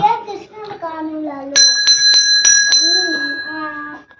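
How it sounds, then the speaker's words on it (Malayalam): A bell is shaken in a quick burst of bright metallic jingles between stretches of a child singing an Onam song, close and clear. "ബെൽ ഷേക്ക് ചെയ്തു"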